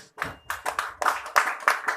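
A church congregation at a Sunday sermon claps for Jesus in a handful of uneven bursts of hand claps, fairly close and moderately loud, with brief gaps between the rounds.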